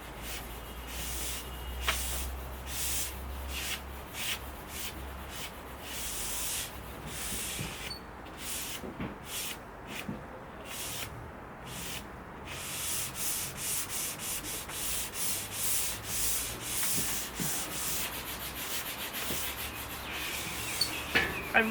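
Sponge rubbing Danish oil into a teak Domino Mobler desk, a steady run of scratchy rubbing strokes close up, continuous and fairly loud, with no talking.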